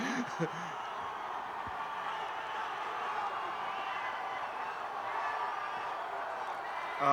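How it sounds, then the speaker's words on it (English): A restless arena crowd at a 2003 Rumble on the Rock fight event roars in a steady, loud wash of shouting and cheering that fills the whole stretch, with a sharp burst at the start and a swell at the very end. "The crowd is near riot at this point."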